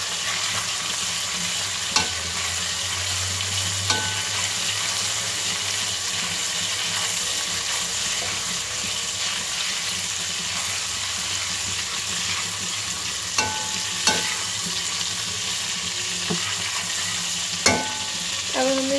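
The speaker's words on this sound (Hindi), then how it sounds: "और इसको फ्राई कर देंगे हाई फ्लेम पे।" Ingredients for Chinese rice frying on a high flame, with a loud, steady hiss of hot oil and occasional knocks of a spatula against the pan, close up, with no one speaking.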